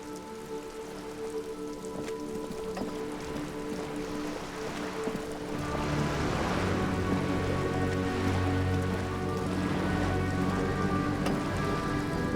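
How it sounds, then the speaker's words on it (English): Steady rain pattering on wooden boards and water in the Disco Elysium video game, growing louder and denser about halfway through, with a faint musical drone underneath. "All around you, rain keeps falling down."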